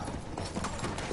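Horse hooves clip-clop steadily in the Battlefield 1 game, a busy close gallop of repeated thuds layered in dense game noise, with no talk over it.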